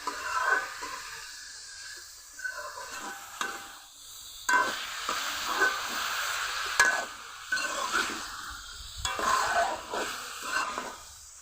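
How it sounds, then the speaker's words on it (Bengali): Cauliflower stalks being stir-fried in a pan for a Bengali chochchori, with soft sizzling and repeated stirring scrapes at close range, rising and falling in irregular bursts, no voices. "সময় নিয়ে কষিয়ে নিতে হবে যত ভালো করে কষানো হবে সবজিগুলো ততই কিন্তু রান্নাটা খেতে ভালো লাগবে"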